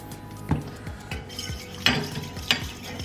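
Spoon stirring a homemade fruit-juice jelly candy mixture in a pot on the stove, with about six close, distinct scraping clinks against the metal at irregular intervals over a low hum, no talking.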